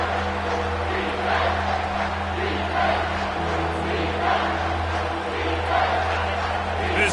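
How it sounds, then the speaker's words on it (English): Football stadium crowd rising in a loud sustained roar throughout, with a commentator talking over it. "This crowd rising up, sensing that its defense needs some help."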